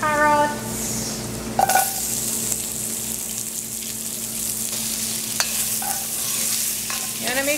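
Carrots hit melted butter and grated garlic over low heat, giving a steady sizzle with stirring scrapes and a few sharp clanks of the spoon against the pan. A voice speaks briefly at the start.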